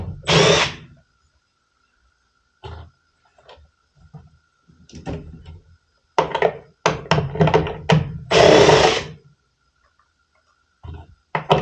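A power drill removes screws from the inducer of a newer Carrier furnace, several loud close bursts of whirring spin separated by quiet gaps and small clicks, the longest burst near the end.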